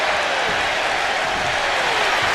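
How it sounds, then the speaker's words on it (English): Wrestling crowd in the WWE 2K25 video game cheering during a tag match, a dense continuous roar of noise at steady loudness throughout. "Shelley getting the crowd involved here."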